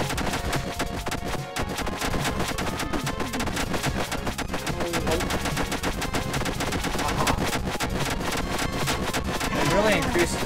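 Rapid automatic gunfire from the anime-style video game Demon's Tier+, dense continuous shooting bursts with a player talking over it throughout.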